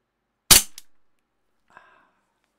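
A single sharp gunshot cracks loudly in a Minecraft game, decaying quickly, followed a moment later by a faint, short mechanical click or clatter.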